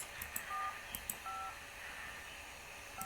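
Dialing tones from an old telephone in Minecraft sound as a few short, clean beeps in separate pairs over faint background hiss, quiet and close with no talking.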